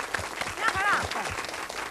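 A TV studio audience claps in a sustained burst of applause while a voice speaks over it.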